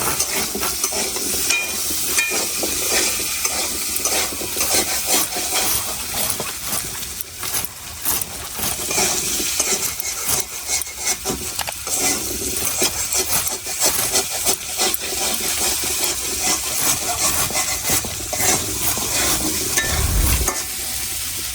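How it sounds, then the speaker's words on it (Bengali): Potatoes sizzle steadily in a hot pan while a utensil scrapes and stirs repeatedly, close and continuous with no talking. "আমি তো এদিক দিয়ে আলু ভাজতেছি"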